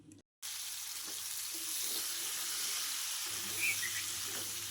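Jackfruit and potato pieces sizzle in the same hot oil just used for frying prawns, giving a steady soft hiss with occasional crackles after a brief drop-out at the start.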